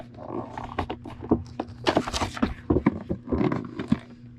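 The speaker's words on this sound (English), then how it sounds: "taking it away a second so I can muscle off this tape" Tape is pulled and torn off a Lanard Aliens action figure package, producing a series of close, irregular crackling rips and scrapes with a low hum underneath.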